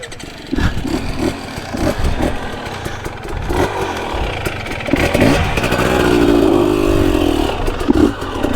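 A 2022 Gas Gas EC 250 dirt bike runs continuously at close range, its engine rising and revving through the ride with a rough, clattery mid-range note.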